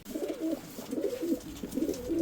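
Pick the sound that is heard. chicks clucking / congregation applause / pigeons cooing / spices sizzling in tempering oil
pigeons cooing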